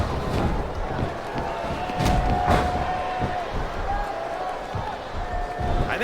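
Arena crowd noise in the WWE Smackdown vs Raw 2007 wrestling video game, a steady roar with swelling cheers and thuds of in-ring impacts, with commentators talking over it.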